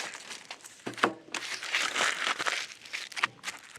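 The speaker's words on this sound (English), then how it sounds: "you wrap it in aluminum foil, shiny side out" Aluminum foil crinkles and crumples around a shallow paving brick, in bursts of close, busy rustling with no voices.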